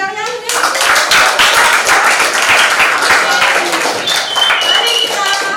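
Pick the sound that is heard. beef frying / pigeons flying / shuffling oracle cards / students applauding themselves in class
students applauding themselves in class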